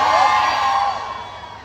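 A student audience at a university excellence meet cheers and whoops loudly, a dense crowd roar that holds steady and then tapers off slightly.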